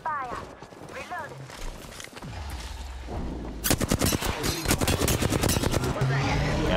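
Rapid bursts of gunfire from a first-person shooter video game, close and loud, a dense volley of shots filling the second half after quieter game sounds and a voice.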